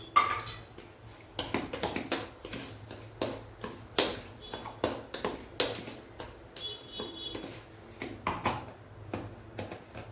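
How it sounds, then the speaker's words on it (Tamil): Roasted rava being stirred in a pan as ghee is poured in a little at a time for rava laddu, giving repeated faint scraping and clinking strokes at a steady rhythm, close by, with no talking. "கொஞ்சம் கொஞ்சமாக ஊற்றி கிண்டுவோம்"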